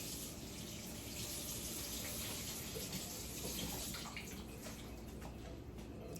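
Steady running tap water as an egg is rinsed under it, a continuous close splashing flow with no talking.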